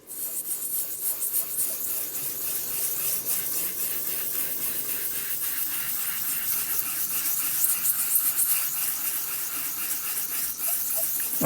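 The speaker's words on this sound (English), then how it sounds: "I'm not rubbing very, very hard either. I'm just literally just going over the surface." Excess gilding flake being rubbed lightly off a stenciled surface in gentle circular motions, giving a steady, close, continuous dry rasping hiss that holds even throughout with no talking.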